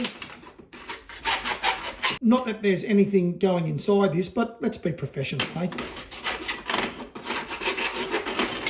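Rasping and rubbing while cleaning out drilled holes in the top frame of a DIY 3DOF motion simulator platform, a repeated scraping under someone talking.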